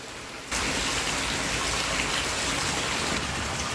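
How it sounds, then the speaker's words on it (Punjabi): Heavy, fine, needle-like rain suddenly begins pouring over open fields in Sri Ganganagar district, Rajasthan, one afternoon, becoming a dense, steady, loud hiss of drops that continues unbroken. "ਸੂਈਆਂ ਵਾਲਾ ਮੀਂਹ ਹੈ ਸੂਈਆਂ ਵਾਲਾ"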